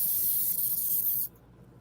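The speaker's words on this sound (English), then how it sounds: "I can spray the bottom there, just so I please Wilmer." Spray paint hisses steadily onto the underside of a model freight car during light weathering, a close, continuous airy rush that cuts off abruptly near the end.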